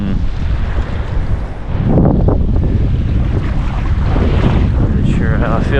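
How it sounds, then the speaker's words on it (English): Strong, gusty wind blowing across a big river dam during fishing, a loud, continuous rushing roar that buffets the microphone throughout, with no one talking. "Since the wind is so crazy right now"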